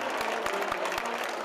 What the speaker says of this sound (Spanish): ¡Qué aplauso!